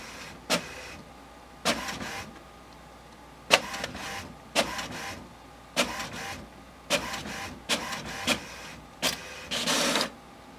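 A printer prints a page with a series of short mechanical whirring and clunking bursts at uneven intervals, close and moderately loud, with no voices.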